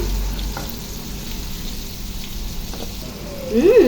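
Minced garlic and onions sauté in a pan for a Filipino cassava leaf dish, giving a steady low sizzle throughout, with a brief louder burst of frying near the end.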